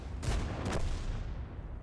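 Tank cannon fire in the World of Tanks video game: two close, heavy booming shots in quick succession over a steady rumbling background.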